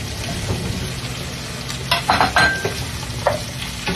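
Squash pieces drop into a pan of frying shrimp, and the pan crackles and sizzles with a few sharp bursts and stirring scrapes as they land. Before that, a softer background sizzle runs on its own.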